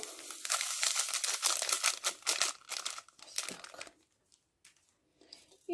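A paper packet of vanilla sugar crinkles and tears open up close, with rustling bursts that fade into near silence.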